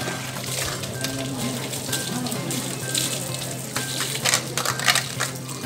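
Water poured over the idol of the state's presiding goddess Chamundi at Chamundi Hill, a steady splashing wash under continuous background noise and some voices.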